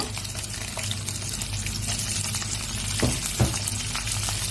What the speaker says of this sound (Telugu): ఇప్పుడైతే ఆనియన్స్ అయితే యాడ్ చేస్తున్నాను